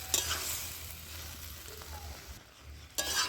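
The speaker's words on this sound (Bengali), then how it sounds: "দিয়ে আবারও 5 মিনিটের মতো আমি কষিয়ে নেব" Curry masala for a winter-vegetable curry frying and being stirred in a pan, a steady close sizzle with scraping stir strokes, a brief quieter dip near the end before the sizzle returns strongly.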